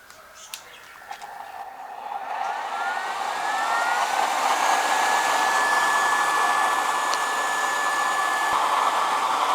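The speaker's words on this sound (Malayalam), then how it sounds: "നല്ല നല്ല സൗണ്ട് ഉണ്ടല്ലേ ബ്ലോറിൻ്റെ" The blower fan on an oil-burning stove spins up from a soft start into a loud, steady whirring drone with a faint tonal whine, running continuously close by.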